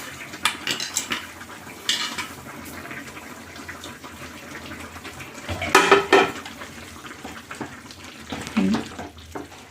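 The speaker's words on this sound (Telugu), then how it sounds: "వేయించి పెట్టుకున్న రవ్వ వేసేస్తున్నాను." Roasted wheat rava goes into boiling water in a pot and is stirred for upma, with metal spoon scrapes and clinks against the pot over a low bubbling background, close and intermittent.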